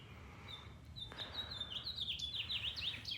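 Small birds chirp near a garden bird feeder, a faint series of quick, high tweets that grows busier toward the end over a low outdoor rumble.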